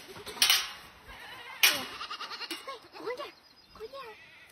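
A white goat with a black eye bleats loudly in a few short, piercing bursts during a summer walk with goats on a farm, while people talk nearby between the cries.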